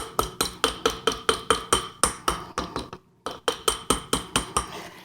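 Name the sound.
hammer tapping wire ring for texture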